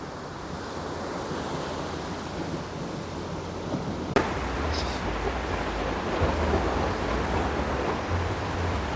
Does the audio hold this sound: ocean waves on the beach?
yes